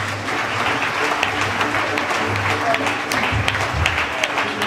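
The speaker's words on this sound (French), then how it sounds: "Acclamons le Seigneur." A church congregation applauds together during a Sunday Methodist service, a steady, dense wash of clapping close and loud for the whole stretch, with scattered sharper claps and voices mixed faintly underneath.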